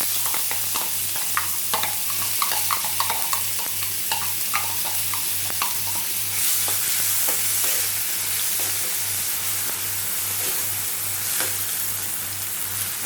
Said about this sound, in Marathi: गरम तेलामध्ये मी ही मिरची घालते, आणि हे जे आपण बारीक केलेले कांदा टोमॅटो आहेत हे पण घालून घेते।